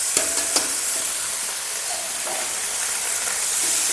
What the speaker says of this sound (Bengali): এখন আমরা দিয়ে দেবো কলার মোচাটা